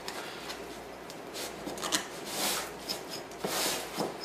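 A knife scraping around the inside edge of a pan to loosen a baked sponge cake, producing soft, intermittent rubbing and rasping strokes close by, with no talking.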